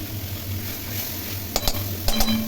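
A spoon scraping and clinking against a pan while fried spice masala with salt is stirred for a Bengali rui fish curry, a low steady sizzle underneath and a few sharp metallic taps near the end.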